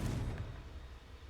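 A Confringo blasting spell goes off in the Hogwarts Legacy video game, a loud low boom at the start that rumbles and fades out.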